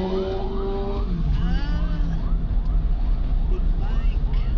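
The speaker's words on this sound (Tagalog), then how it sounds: "Dami bang ambulansya?" Wailing sirens rise and fall in repeated sweeps over a steady low rumble of traffic, fairly loud and close.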